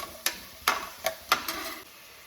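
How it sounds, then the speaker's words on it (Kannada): Tomatoes and onions frying in a pan are stirred with five quick, evenly spaced spatula scrapes over a faint, quiet sizzle. "ಸ್ವಲ್ಪ ಟೊಮೊಟೊ ಫ್ರೈ ಆಗೋವರೆಗೂ ಉಟ್ಕೊಳ್ಬೇಕು."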